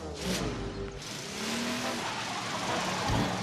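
A stolen truck pulls away in a cartoon, its engine revving and rising in pitch over a windy storm background, with tires scuffing briefly as it moves off.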